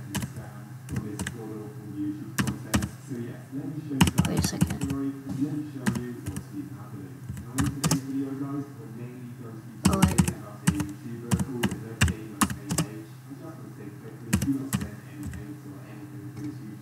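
Bursts of typing on a computer keyboard, clustered rapid clicks alternating with short pauses, close and clear over a low steady hum, with faint talking mixed in.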